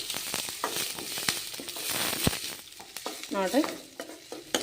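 Onions sizzle in a pan as they fry toward golden, with steady crackling and repeated stirring scrapes and clinks. A voice speaks briefly partway through.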